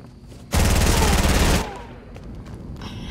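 SMG gunfire in the Fortnite video game: a single loud, rapid burst of automatic shots lasting about a second, with quieter game sounds after it.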